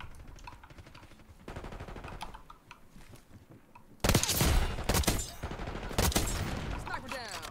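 Gunfire in the online game Call of Duty: Black Ops 6, starting with faint rapid shots and keyboard clatter, then turning into loud, close automatic bursts in the second half.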